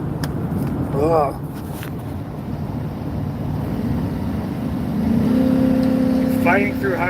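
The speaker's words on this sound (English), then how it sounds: "Fighting through highway traffic." A car drives through highway traffic, heard from inside as a steady, loud roar of road and engine noise. Brief voice-like sounds cut in, and a tonal hum rises near the end.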